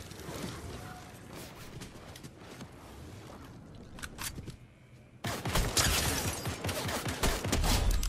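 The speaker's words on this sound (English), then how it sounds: "I see that guy who's shooting me." Gunfire in the Fortnite video game crackles in rapid bursts, with a louder, denser barrage in the second half over a constant game soundscape.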